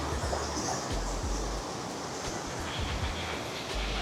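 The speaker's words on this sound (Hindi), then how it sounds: "इट्स अ प्रॉपर वाटरफॉल, और पानी ऐसा ख़तरनाक है।" Tegenungan waterfall in Ubud, Bali, roars in the rain, a dense, steady rush of falling water with low gusty rumbles underneath, continuous and close, with no voices.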